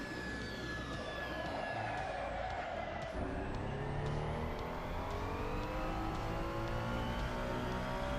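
A Ferrari 296 GT3 race car in the racing game Assetto Corsa accelerates hard on the Barcelona circuit, its engine note climbing through the gears with brief shift breaks, steady and close.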